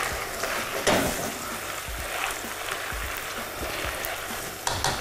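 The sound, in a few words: stirring risotto in nonstick frying pan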